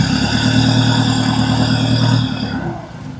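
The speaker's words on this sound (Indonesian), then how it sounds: "Dengan suara mesin yang halus dan gaya jalannya yang santai, mobil pick-up terus melanjutkan perjalanan" A pick-up truck engine hums steadily and evenly close by as it drives, then fades away toward the end.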